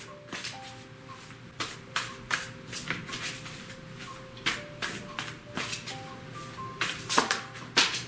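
Tarot deck shuffled by hand, a rapid series of crisp riffling bursts and snaps repeating close up, one sharper flick near the end as a card flies out, with quiet background music.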